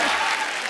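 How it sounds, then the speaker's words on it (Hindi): A studio audience at a Hindi television comedy show applauds, a brief, dense burst of clapping filling the moment. "जोरदार तालियां।"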